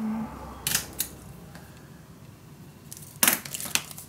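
Scissors snip paper for a mini album pocket in a quiet room, a few sharp, isolated clicks and cuts spaced apart against faint background hiss.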